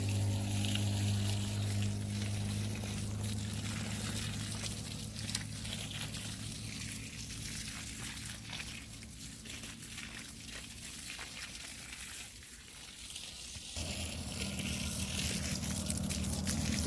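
Water gushes and trickles through an irrigation line in a grape vineyard over a constant low pump drone, which drops out briefly near the end before resuming.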